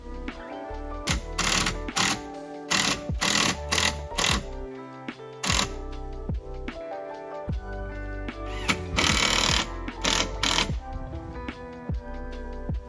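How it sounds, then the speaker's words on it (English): Wooden braces for a simple bike shelter being cut and screwed in place: bursts of whirring power-tool noise in short repeated runs, separated by quieter gaps and knocks, close by. "I measure, cut and screw them in place."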